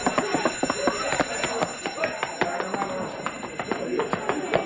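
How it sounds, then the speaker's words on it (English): A loud alarm bell rings continuously with a rapid metallic clatter, shrill and close, with busy commotion underneath. "Hey, he stepped on the alarm."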